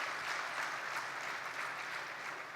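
An audience claps steadily for a few seconds, a soft, even patter of hands heard somewhat distant and alone.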